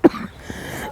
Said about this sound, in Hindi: बहुत ही खांसी हो गई है